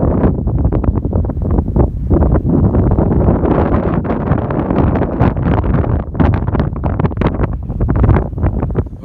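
Strong gusts of wind buffet the microphone, a loud continuous roar with rough bursts and no voices.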